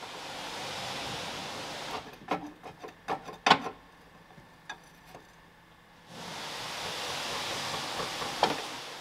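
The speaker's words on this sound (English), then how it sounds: "for that I'm using this pry bar to lever it out" A pry bar levers the drive shaft out of a manual Volvo V70 gearbox (M56/M66). It makes a burst of close metallic knocks, scrapes and clunks, framed by a steady background hiss before and after, with no talking.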